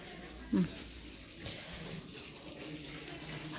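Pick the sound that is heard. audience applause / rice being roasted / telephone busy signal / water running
water running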